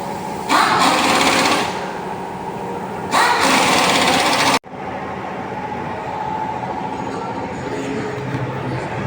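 A coolant exchange machine hums and whirs steadily, broken by two louder surging bursts, then an abrupt cut to a quieter continuous mechanical drone.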